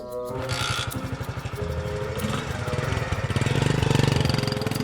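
Motorcycle engine, an old beat-up bike, revving with a steady pulsing throb that rises in pitch and loudness toward the end, close and continuous.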